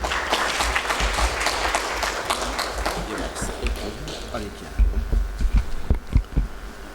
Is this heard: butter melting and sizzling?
no